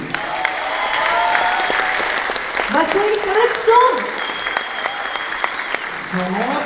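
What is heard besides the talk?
audience ovation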